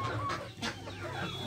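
Chickens clucking close by in a backyard during a guava harvest, a few short rhythmic clucks over quiet rustling, with no talk over them.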